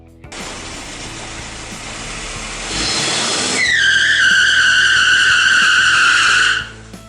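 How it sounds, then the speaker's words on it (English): A Toyota truck with a 22RE engine and limited slip differential does a burnout, the engine revving up and tires breaking into a loud, sustained squeal close by before cutting off. "will it do a burnout?"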